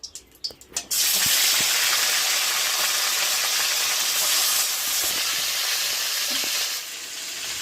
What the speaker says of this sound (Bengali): এবার মাছগুলো দিয়ে ভেজে নেব।